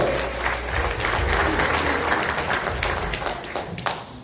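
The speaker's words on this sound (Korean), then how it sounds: "큰 박수로 맞아주시기 바랍니다" Applause from a party convention audience at a hotel in Andong, welcoming a speaker to the stage; steady, dense clapping that fills the room at moderate volume throughout.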